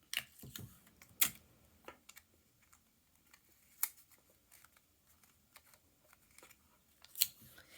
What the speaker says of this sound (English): We're going to tape these down to make sure that they make a good connection with our copper tape.